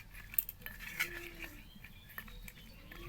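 A spoon mixing salt, turmeric and chili powder in a pan, faint irregular metallic clinks and scrapes at close range, quiet with no talking.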